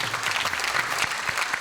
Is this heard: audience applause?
yes